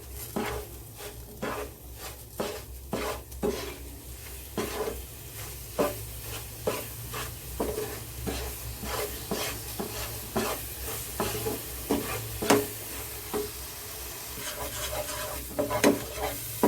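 Jamun pulp being stirred with sugar in a kadhai, a spoon scraping and knocking against the pan in repeated strokes over a soft background sizzle, close and steady, with no talking.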